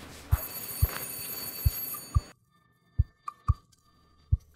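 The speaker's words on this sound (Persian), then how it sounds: "وای خدای من، دارن زنگ میزنن." A telephone rings in a Turkish drama series with Persian dubbing, giving a few evenly spaced rings over a loud hum. The hum cuts out halfway through, and the rings continue alone more clearly.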